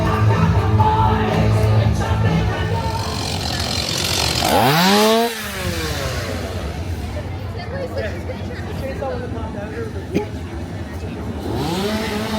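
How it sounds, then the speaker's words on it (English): A chainsaw engine revs loudly nearby at a Howl-O-Scream Halloween event at SeaWorld Orlando, whining up and down over a babble of voices and background noise. "I thought there was just one lone chainsaw,"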